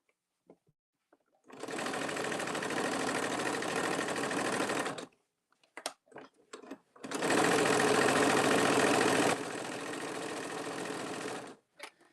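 A sewing machine stitches down a folded tote bag in two long, steady runs, with a short burst of handling noises between them and no talk.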